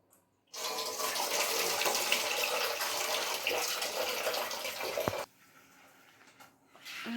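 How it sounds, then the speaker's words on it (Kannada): Overnight-soaked beans are rinsed under running water, a loud close rush of tap water and sloshing for about five seconds that then stops abruptly, leaving a quiet pause before more sound. "ನೈಟೇ ನೆನೆ ಹಾಕಿದ ಕಾಳು ಅಮ್ಮ ಈಗ ತೊಳ್ಕೊತಾರೆ"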